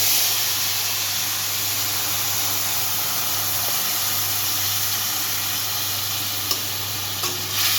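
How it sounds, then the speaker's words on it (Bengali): Ginger, garlic, onion and chili paste added to a hot tempering of oil and spices for a yogurt katla fish curry, giving a loud, unbroken close sizzle with a steady hiss and a few faint clinks near the end. "এবার আমি দিয়ে দিচ্ছি মশলাটা"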